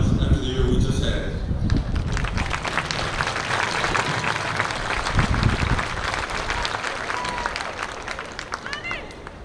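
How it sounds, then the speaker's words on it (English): Audience applause at a high school commencement ceremony, a steady dense wash of clapping from a large crowd that fills the whole stretch, loud and close. "We all deserve a round of applause after the year we just had."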